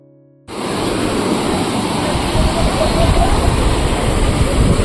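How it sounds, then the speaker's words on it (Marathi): Water of the Patalganga river rushes along in a steady, loud, broadband roar that starts abruptly and keeps going without a break. "पाताळगंगा नदी."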